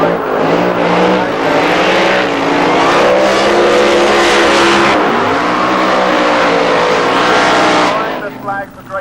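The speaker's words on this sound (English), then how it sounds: "what a burnout for Mickey Cougar there, 3/4 of the way up the track" Pro Mod drag racing car doing a burnout at Santa Pod in 1990, a loud sustained engine roar with revving, heard from a distance with commentary over it.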